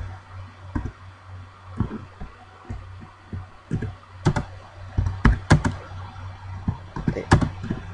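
C++ code typed on a computer keyboard, heard as irregular clusters of close, crisp key clicks with a steady low hum underneath.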